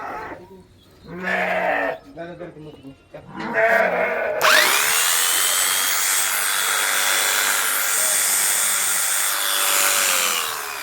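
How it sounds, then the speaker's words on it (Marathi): A few goat bleats sound first, then electric clippers switch on and run with a steady, high buzzing whine until the end, shearing a goat's hair. "केस कापते आणि मशीन एकदम खतरनाक आहे मित्रांनो"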